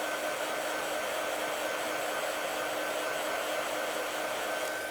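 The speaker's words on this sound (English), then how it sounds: "So keep your heat gun moving" A heat gun blows steadily while drying gel pen ink on mirror card, an even, close, continuous whooshing hiss with no breaks or voices.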